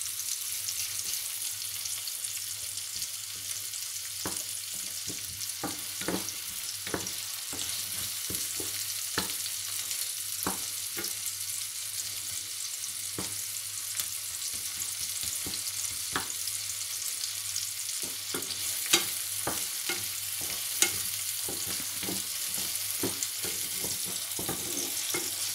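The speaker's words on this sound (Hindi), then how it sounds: "अब इसको भी सौते करेंगे, ज़्यादा नहीं भूनना, थोड़ा सा बस इसको सेक लगाना है।" Ingredients sautéing in a pan for a chicken roll, a steady broadband sizzle with scattered sharp clicks and scrapes of stirring throughout, moderately close and continuous, no talk.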